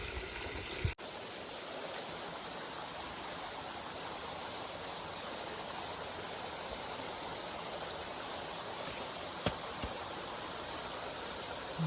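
Water flows down a field channel in a traditional Konkan farming setup, a steady, soft rushing wash that runs evenly and fairly quietly, with two brief sharp knocks, one near the start and one near the end.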